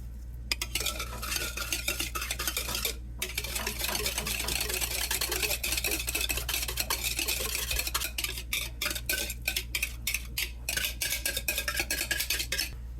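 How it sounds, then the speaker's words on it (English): Carrot cake batter being folded and mixed in a bowl, a continuous close-up scraping and squelching with utensil knocks against the bowl, steady throughout with short pauses. "Let's give it a very good mix."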